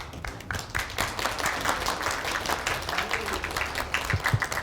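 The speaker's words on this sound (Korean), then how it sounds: "우리 저 다시 한번 뜨거운 박수 부탁드리고" An audience claps at a university lecture hall in Seoul, a dense, sustained round of applause that fills the room at a steady level for several seconds, with no speech over it.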